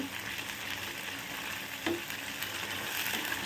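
Garlic, coriander and tomato fry steadily in hot oil while a ladle stirs them, giving a continuous close sizzle with a brief scrape of the ladle against the pan.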